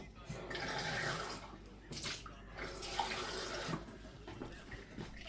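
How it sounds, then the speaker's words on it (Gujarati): Water runs and splashes steadily into gram flour in a container nearby, with a few soft clunks and a faint voice in the background. "થોડું પાણી એડ કરીને એને બાંધી લઈએ આપણે"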